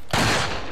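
A loud Magnum gunshot in the video game Resident Evil 4: a single sharp blast that rings out and decays over a broad, noisy tail, with no talk over it.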